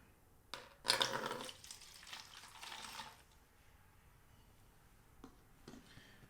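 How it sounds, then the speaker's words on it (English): Ammonia poured from a container into a spray bottle, a brief splashing gush that trickles off, followed by a few faint clinks and handling noises nearby. "I'm going to go ahead and pour the ammonia in."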